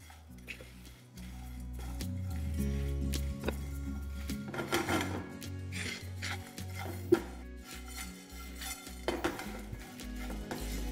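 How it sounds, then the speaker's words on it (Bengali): Black pepper, cumin and dried chillies dry-roasting in a frying pan over medium-high flame, with repeated scraping, rattling and clinking of a utensil against the pan, over low background music. "এবার ফ্লেমটাকে মিডিয়াম টু হাই করে এটাকে ভালো করে একবার ভেজে নেব।"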